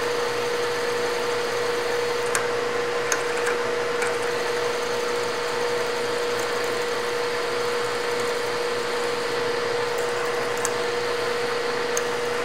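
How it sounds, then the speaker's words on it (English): A cold rotary phase converter runs noisily in a metalworking shop, a constant loud mechanical hum with a steady whine and occasional faint ticks over the whole stretch. "My phase converter is cold, so it's noisy."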